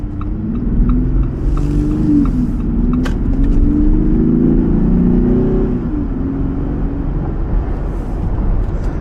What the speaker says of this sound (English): I'm going to give you the sound from a takeoff.